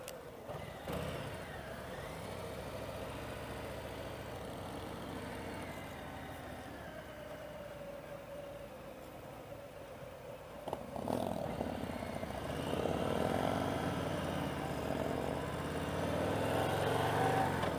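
A 2018 Harley-Davidson Heritage Classic 114 with its 114 motor and six-speed gearbox runs steadily at a low rumble, then swells louder near the end as the throttle opens, heard close with no talking.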